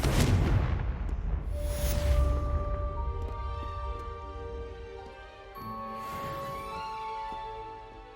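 In Hogwarts Legacy, a Confringo spell goes off with a deep booming blast and a long rumbling tail, while magical chimes and tones ring over the fading roar.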